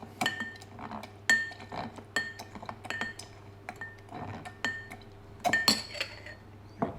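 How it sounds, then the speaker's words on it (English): A cocktail mix being muddled in a glass with a muddler, giving repeated sharp clinks and knocks in an irregular rhythm, close and fairly clear with no talking. "Then straight to your muddler. Muddle the whole mix."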